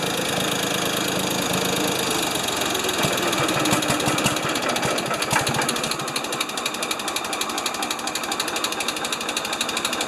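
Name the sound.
Ford 2600 tractor engine running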